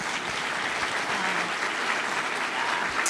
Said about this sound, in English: Please give a big round of applause for Dianna Graves.